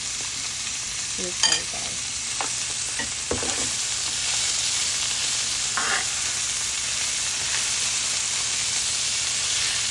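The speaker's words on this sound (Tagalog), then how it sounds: "lagay na lang natin ulit ang carrot" Carrots returned to a hot frying pan for an udon and mushroom dish, giving a steady bright sizzle with a few light clinks of stirring; a brief word is spoken over it.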